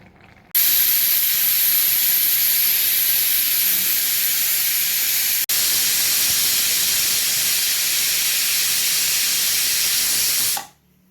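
Pressure cooker on the stove cooking gongura botti curry, letting off a long loud continuous steam whistle hiss that starts abruptly, runs for about ten seconds with a momentary break, then cuts off.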